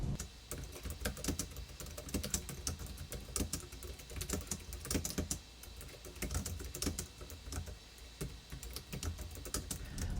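Fingers type continuously on a Logitech K380 multi-device keyboard, producing a quiet, close, rapid patter of soft key clicks with short pauses between bursts and no voices.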